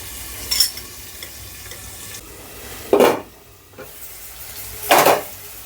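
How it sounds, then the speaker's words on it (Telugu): Onions fry in a pan for a hotel-style poori curry, a low steady sizzle broken by three loud bursts of stirring and scraping against the pan. "మనకిప్పుడు ఈ ఆనియన్స్ అన్నవి బాగా వేగిపోయినాయి చూడండి"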